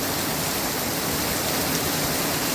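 Heavy rain pours down onto a street in a dense, unbroken roar of water, loud and close, with no voices.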